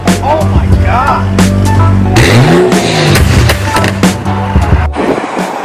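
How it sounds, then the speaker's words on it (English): A Supra sports car at a BMW CCA car event in Canton, Massachusetts, accelerates hard past, its loud engine note rising and sweeping by, with other car noise and crowd sounds around it. "there goes the Supra. Oh, wow. Cracked on too"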